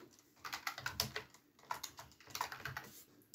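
Rapid bursts of keystrokes on a computer keyboard, a quick uneven run of close, soft clicks in two clusters with a short pause between, heard alone without speech.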